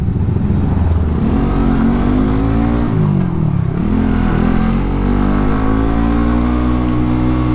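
A Suzuki GSX-S150 motorcycle engine drones loud and close while being ridden. Its pitch dips as the rider shifts or eases off midway, then it settles back to a steady run.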